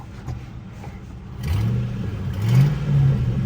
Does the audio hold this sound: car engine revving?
yes